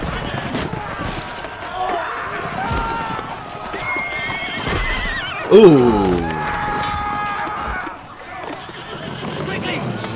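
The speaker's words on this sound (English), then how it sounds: "how are you gonna hold against a bunch of horses?" Horses gallop with rapid hoof clatter and neigh during a battle assault in Kingdom Come Deliverance 2, one loud, close whinny standing out midway over continuous movement, with a voice exclaiming briefly.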